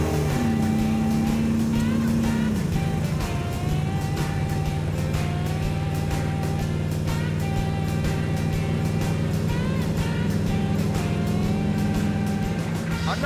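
A Dodge Dart fitted with a motorhome 440 engine cruises at highway speed, its low steady exhaust drone and road roar filling the cabin loudly and continuously, with a slight shift in engine pitch partway through.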